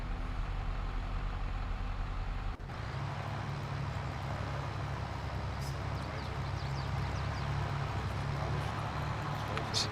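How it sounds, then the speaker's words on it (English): Pump engine from the Pumps N' Hoses pack in Farming Simulator 22, running as a steady low heavy drone, with speech faintly heard alongside. "when it revs up, you can also hear it. Now the pressure increases and the engine speed increases as well."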